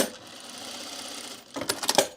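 A sewing machine runs a top stitch along a seam to make an easing stitch, a faint steady whir followed by a louder burst of rapid needle clatter near the end.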